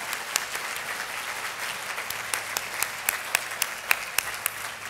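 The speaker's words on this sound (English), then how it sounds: "I just wonder if we could give one more round of applause." Audience applause at a YWCA awards gathering, a steady wash of many hands clapping with sharp individual claps standing out, sustained throughout at moderate level.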